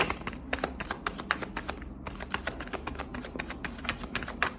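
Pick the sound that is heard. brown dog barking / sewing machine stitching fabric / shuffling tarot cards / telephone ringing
shuffling tarot cards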